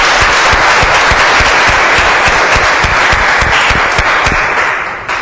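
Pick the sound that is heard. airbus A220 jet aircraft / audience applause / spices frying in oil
audience applause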